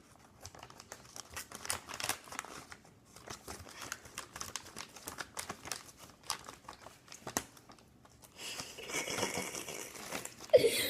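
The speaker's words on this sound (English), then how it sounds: "We need better scissors." Scissors snip and crinkle through plastic packaging during home baking, a series of close, quiet crackles and tearing sounds in irregular bursts, with brief talk nearby.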